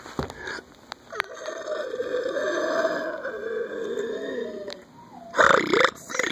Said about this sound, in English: today I'm going to do what I like to call my satanic burps